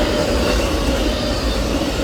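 A massive Amtrak Auto Train rolls past in Palatka, Florida, a loud close rumble of railcars with steady rolling roar and faint wheel noise, no voices over it.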